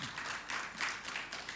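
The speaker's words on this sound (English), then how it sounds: "I'm happy you clapped for that" An audience applauding at a meeting where Mahama meets industry players, a faint, steady wash of many hands clapping from a distance, with no talk over it.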